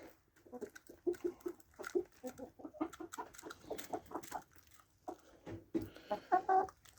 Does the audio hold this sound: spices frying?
no